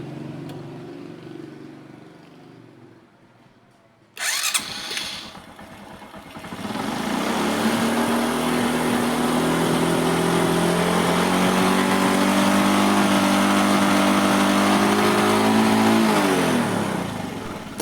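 A Honda Karisma X motorcycle engine starts up, then revs and holds at a steady high drone for over ten seconds before dropping off, loud and close with no talking.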